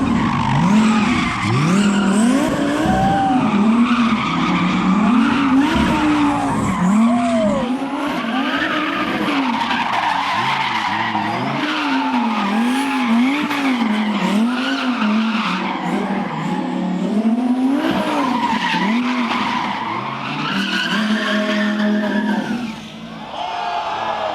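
Ken Block's 1000 hp all-wheel-drive Hoonicorn RX-7 doing donuts at a burnout event, tires skidding and squealing in sweeping, repeated arcs as the engine revs hard, loud and close throughout, with crowd noise underneath.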